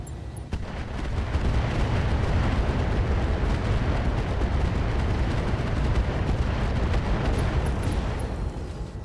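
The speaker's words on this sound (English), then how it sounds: "I think we do fire the AX here" Heavy AX rounds are fired at a Highlander mech in the video game RogueTech, a dense sustained barrage of booming impacts and rumbling blasts that rolls on loudly for several seconds.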